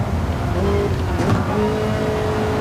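A Gr.3 race car accelerates hard in Gran Turismo during a GT Cup race at the Red Bull Ring in heavy rain, a steady close engine drone with rising pitch over constant spray and road noise.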